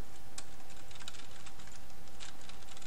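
Rapid, steady clicking of keys on a computer keyboard while text is typed into a form input field, with no voices present.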